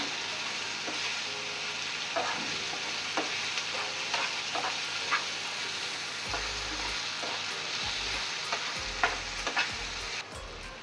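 Egg bhurji masala with turmeric fries in a pan with a steady broadband sizzle, while a spoon scrapes and stirs in repeated soft strokes and a few louder knocks against the pan.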